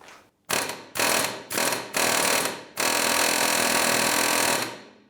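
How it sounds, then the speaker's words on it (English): A pneumatic air hammer hammers loudly and close by on a Honda Element rear wheel bearing in three short bursts, then a longer sustained run of rapid pounding. "Have an air hammer."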